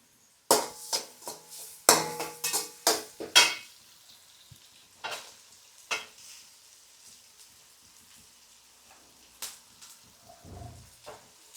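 Vegetable rice with egg and cabbage being stir-fried in a pan, with a burst of sharp scraping and clattering stirs early on, then sparse quieter scrapes over a faint sizzle.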